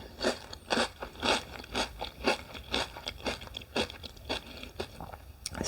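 Golden Grahams cereal being crunched and chewed close up, a steady rhythmic series of loud, crisp bites and crunches about twice a second with no talking.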